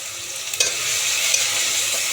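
Tomatoes seasoned with salt and turmeric fry in a pan, giving a steady close sizzle with faint stirring scrapes throughout and no talking.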